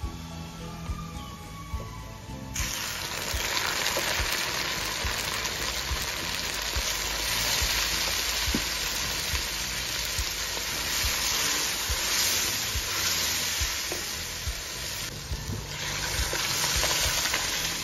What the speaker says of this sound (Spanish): En este punto me gusta ponerle los frijoles